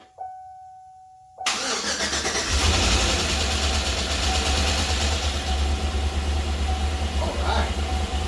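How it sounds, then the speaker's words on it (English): A rebuilt Chevy 5.3 V8 with AFM delete cranks briefly, then fires into a loud, steady idle that rises slightly and settles, heard close with no talk over it. "This is the first start. Hope she starts. Hope she's quiet."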